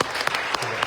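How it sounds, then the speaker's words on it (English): An audience at a corporate gathering breaks into applause, a short burst of steady, close clapping. "so give them both a round of applause."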